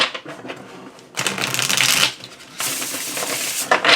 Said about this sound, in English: Since this is a new deck, I'm shuffling it a fair amount.